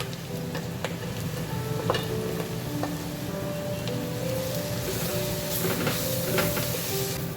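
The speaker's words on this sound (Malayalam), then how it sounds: "1 മിനിറ്റും കൂടെ ഒന്ന് വഴറ്റി കൊടുക്കാം. എടുത്ത് വെച്ച പൊടികളെല്ലാം ഇട്ട് കൊടുക്കാം." Spice powders are sautéed in a hot pan for a tomato curry, with a steady low sizzle and hiss overlaid by occasional light stirring taps, close and continuous with no talking.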